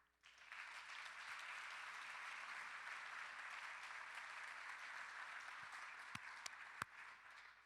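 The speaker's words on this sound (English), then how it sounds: "Give yourself a round of applause." An audience at the 2019 IIDA Annual Meeting gives itself a round of applause, steady and full for several seconds before thinning into a few last sharp claps.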